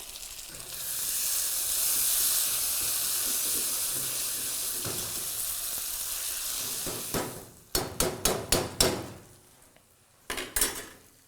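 Diced potatoes drop into a hot pan with tomatoes for a black chana curry and set off a loud, steady sizzle. Sharp clinks of a metal spoon against the pan follow.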